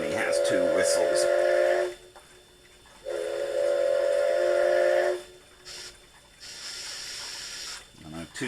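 A Kato N gauge sound unit's steam whistle sounds in two long, steady blasts, each about two seconds, loud and close, with quieter mechanical hiss and background between them.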